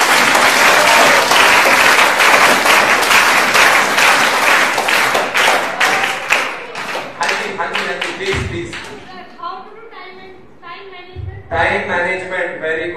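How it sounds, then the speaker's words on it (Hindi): Students give loud applause in a lecture hall, a dense, energetic wave of clapping for about eight seconds that fades into scattered claps, followed by talk. "जोर से तालियां बजाओ अपने लिए।"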